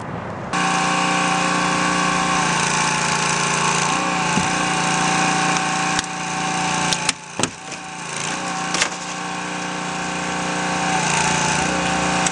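A hydraulic rescue tool cuts the top of a car's B-post during a sidewall removal, its powered engine drone steady and loud, broken by a few sharp metallic cracks midway.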